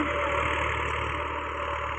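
A Massey 244 tractor engine pulling a cultivator in first gear, a steady loud diesel drone with a constant low hum, nearby and unbroken.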